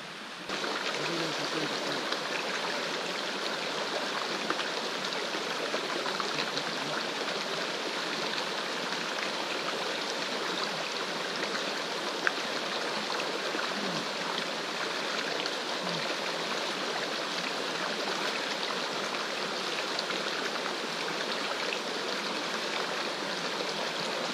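Creek water on the Hidden Rocks Trail flows steadily at moderate volume, a continuous babbling wash with small splashy flickers, heard on its own with no talking throughout.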